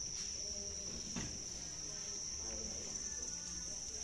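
Crickets in a breeding box chirp in a constant high, shrill trill under a soft low background murmur, steady and fairly faint throughout.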